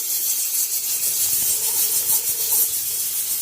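Green chilies sizzling in hot vegetable oil alongside red onions in a pan, a steady close hiss of frying with no talk.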